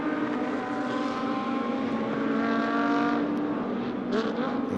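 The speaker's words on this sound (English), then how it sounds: "the car's making that run once again up towards the chicane" A GT2 race car at the Paul Ricard circuit drives up toward the chicane during a European series race, its engine a loud, steady, sustained roar with rising harmonic tones that carries through the whole stretch with no talk.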